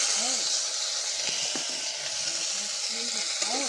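Chopped onion sizzles and crackles in hot oil along with fried dried red chili and bay leaf, a soft steady frying hiss with a few clinks of stirring.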